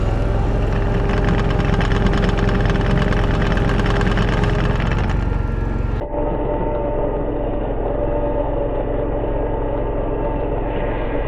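A Walker GHS MT zero-turn lawnmower engine runs close and loud with a steady low mechanical drone, dropping abruptly in brightness partway through as it keeps running, with no talk.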